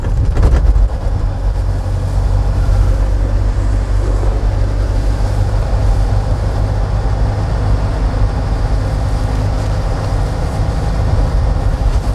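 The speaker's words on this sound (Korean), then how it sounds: "엔진 소리만 들으세요." A car engine drones steadily from inside the cabin during a manual-transmission driving lesson, cruising in fourth gear with a constant loud low hum and road rumble, no talking.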